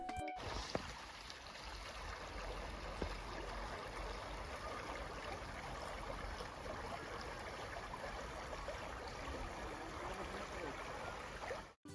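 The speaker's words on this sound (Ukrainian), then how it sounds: "зовсім поруч з центром протікає річка Опір. Там можна прогулятися та послухати її звуки." The Opir river flows through Slavske in the Lviv region, Ukraine, with a continuous broadband rushing and babbling, steady and fairly loud throughout, with no voices.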